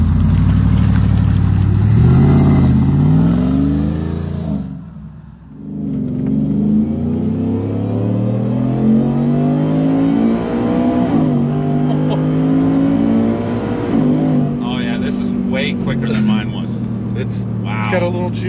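A supercharged Ford F-150 pickup, built to about 800 wheel horsepower with a custom exhaust, idles with a deep rumble, then revs in rising and falling sweeps with a faint blower whine. Someone talks over the engine throughout.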